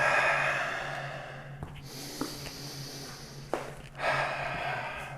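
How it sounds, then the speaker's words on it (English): Someone takes deep, audible breaths during a full-body mobility and stretching routine, a long rushing inhale at the start and another at the end, close to the microphone, with quieter pauses between. "Big breath in."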